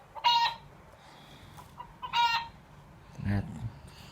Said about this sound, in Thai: ชิคเก้นไก่นะลูก ชิคเก้น